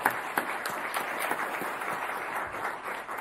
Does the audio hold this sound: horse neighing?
no